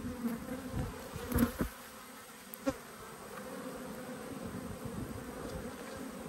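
Honey bees agitated during a hive inspection buzz in a steady close drone, with a few louder passes as individual bees fly near, in Australia.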